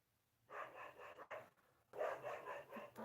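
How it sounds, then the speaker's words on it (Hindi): Dogs barking outdoors on a cold night, several bursts of barking that blend into one another, moderately close, with no talk over them. "देखिए फ्रेंड्स, कुत्ता लोग भौंक रहे हैं"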